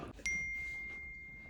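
A phone gives a single bright notification ding that rings on and decays slowly in a quiet room. There is no talk.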